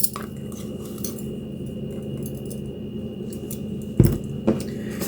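A measuring spoon clinks against a container while garlic powder is measured out, a soft background rustle broken by two sharp metallic taps near the end.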